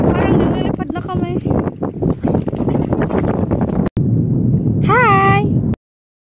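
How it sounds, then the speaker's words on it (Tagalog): Heavy gusts buffet the microphone with loud rumbling bursts while people talk and one voice rises in a sing-song call. "Ang lakas ng hangin guys."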